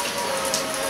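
Rain falls at an outdoor park concert at Roka Park's open-air stage, a steady, close hiss of drops on surfaces with no voices.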